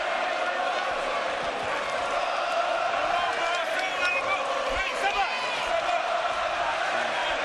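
A boxing arena crowd roars steadily for home fighter Anthony Crolla during a bout with Ismael Barroso, a dense, continuous wall of cheering and shouts with scattered whoops, a commentator's voice riding on top throughout.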